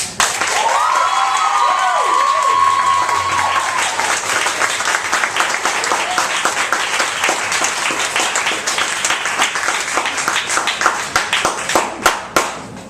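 Audience applause at a slam-style poetry competition, a dense crowd of clapping hands sustained through the whole stretch, loud and close, thinning toward the end into scattered individual claps.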